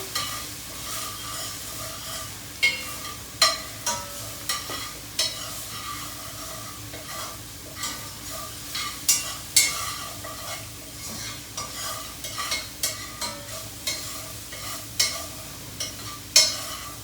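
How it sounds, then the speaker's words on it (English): Minced garlic and onion frying in a pan, a steady sizzle broken by regular scraping and clinking strokes of a spoon stirring throughout, close and alone without talk. "cook that with the onion for just a minute because we don't want our garlic to burn"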